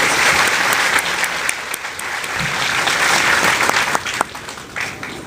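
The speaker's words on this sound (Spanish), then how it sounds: "vamos a recibir con calurosos aplausos al doctor Modesto Montoya" Warm audience applause at a science lecture in Peru welcoming the guest speaker, a steady, full wash of many hands clapping for about five seconds with a few sharper claps near the end.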